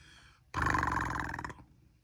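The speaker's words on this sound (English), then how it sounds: "The mother lion licked her cubs and purred." A short lion roar sound effect in a children's read-aloud story, one loud growling burst of about a second that stops abruptly.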